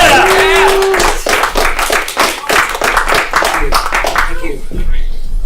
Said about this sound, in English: Give a round of applause for Hari Rao.